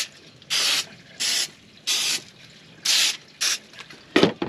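An aerosol spray can fires short hissing bursts onto small printed items at a camp, six evenly spaced sprays each lasting under half a second, loud and close with quiet gaps between.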